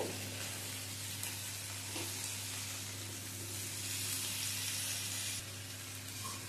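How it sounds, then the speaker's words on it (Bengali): Malabar spinach stems sizzle in a hot pan as they are lightly stirred, a soft, continuous hiss with faint scraping, heard alone. "পুঁই মিটুলিটা দিয়ে হালকা করে একটু নেড়ে নেব।"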